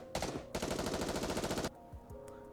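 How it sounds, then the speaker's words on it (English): A burst of rapid automatic gunfire in the video game NIKKE rattles loudly, pausing briefly before a longer sustained volley, then cutting off to quiet. "promptly assaulted by a hail of gunfire to its core"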